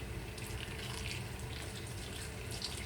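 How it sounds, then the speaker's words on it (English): Hot water pours steadily into a pot of vegetable stew with celery and leaves, a continuous soft splashing stream that runs quietly and unbroken throughout, with no voices. "So I just put a touch more hot water."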